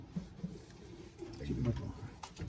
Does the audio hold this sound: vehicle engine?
no